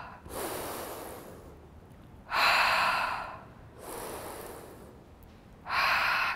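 Heavy rhythmic breathing during a weight-loss workout, alternating long forceful inhales and exhales about every two seconds, close and loud.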